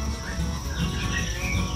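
Crickets chirping densely at a cricket farm, a continuous high trilling from many insects close by, steady and without pauses.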